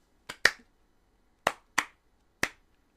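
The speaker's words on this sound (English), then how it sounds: "Here's a slow clap for them." Five sharp, separate hand claps, loud and close, spaced unevenly across a few seconds with a slow, deliberate pace and no other sound between them.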